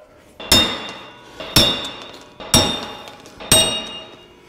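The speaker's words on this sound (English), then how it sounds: "You might be able to do it with just hitting it with the hammer." A hammer strikes a wheel stud four times at steady intervals, each blow a loud, ringing metallic clank that fades quickly, close and without talk.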